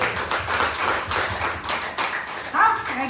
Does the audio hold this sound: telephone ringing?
no